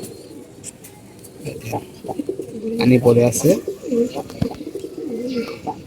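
Pigeons coo repeatedly at close range, soft throaty rolls layered under someone talking over them throughout.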